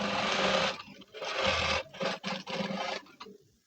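A sewing machine stitches a blouse in a few bursts, a fast, close mechanical whirr that runs steadily, pauses, then restarts in shorter chattering spurts before stopping.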